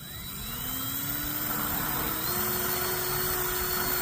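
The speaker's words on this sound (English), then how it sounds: "we're going to drill a hole" A steady, high-pitched motor whine of a power drill boring a hole in a plastic container, running continuously, its pitch rising slightly as it spins up and bites in.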